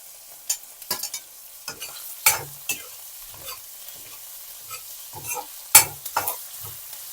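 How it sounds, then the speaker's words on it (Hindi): Chopped onions with red and green chillies fry in a pan, a quiet sizzle broken by scattered stirring scrapes and clinks. "इसको तब तक पकने दूंगी जब तक ये प्याज थोड़ा ब्राउन नहीं हो जाता।"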